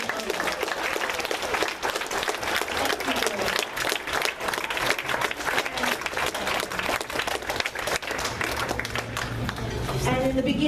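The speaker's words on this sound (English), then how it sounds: "give them a round of applause for being there for you" A crowd applauds at a cheerleader awards event, with sustained, dense clapping and cheering over the whole stretch and voices mixed in beneath it.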